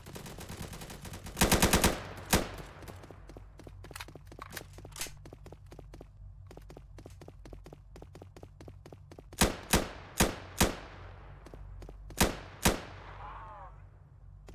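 Gunfire from a weapon in the Roblox game BlackHawk Rescue Mission, a fast automatic burst followed by scattered single and clustered shots over fourteen seconds, sharp and loud with short quiet gaps and no talking.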